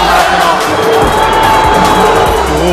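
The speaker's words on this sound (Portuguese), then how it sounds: "Torcida gritando sem vergonha" Vasco football fans at the Maracanã shout after their team's elimination, a loud continuous roar of crowd voices filling the stadium without a break.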